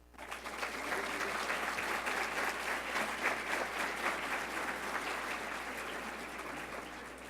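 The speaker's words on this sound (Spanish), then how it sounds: "para quien les pido un cordial aplauso" Audience applause at a university event in Guadalajara, greeting the rector of a university center for economic and administrative sciences: a thick, even round of clapping rises quickly and continues for about seven seconds.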